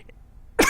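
Quiet room tone, then a single sharp, loud cough bursts out near the end.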